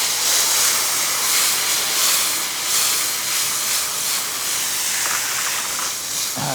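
Tomatoes hit hot oil in a sauté pan, giving a steady, loud hiss of sizzling that stays even throughout with no talking.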